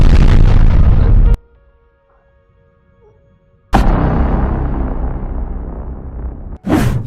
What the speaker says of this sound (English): we're supposed to explode!